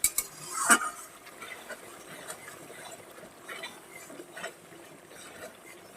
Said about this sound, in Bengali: এবার সুন্দর করে এটাকে কষিয়ে নিতে হবে